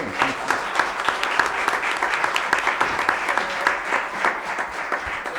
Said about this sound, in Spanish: Yo le voy a dar un aplauso